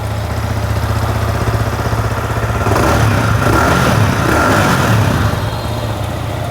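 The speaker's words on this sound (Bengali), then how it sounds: "ওয়েল বাইকটা কিন্তু স্টার্ট করলাম বন্ধুরা" A Yamaha R15M motorcycle, Indonesian version, idles close and loud with a steady low engine rumble that swells slightly midway before settling back.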